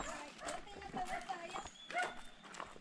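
A dog in a rural village barks in several short, sharp bursts close by, mixed in with people talking over it.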